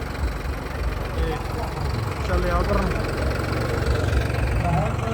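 A low, rumbling Fiat tractor engine idles steadily throughout while someone speaks briefly over it.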